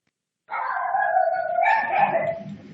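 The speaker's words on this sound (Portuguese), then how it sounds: "Deixa os cães pararem aqui que eu volto" A dog howls in a long, sustained, wavering cry, fairly close and loud, with a second voice joining near the end.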